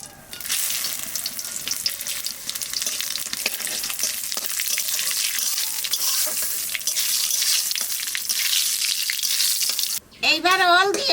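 Dried red chili, bay leaf and cumin seeds sizzling in hot oil, a loud dense crackle and hiss that runs steadily, then cuts off near the end into a brief different warbling sound.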